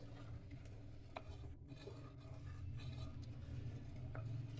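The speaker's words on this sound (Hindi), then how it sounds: "चीनी को मिक्स कर लेंगे अच्छे तरीके से।" Spoon stirring sugar into heating milk in a pot for fruit custard, a soft, quiet scraping and swirling with faint clinks, steady and close with no talk.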